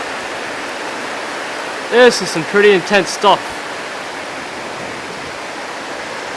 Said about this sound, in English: I'm getting soaked and wet here in the rain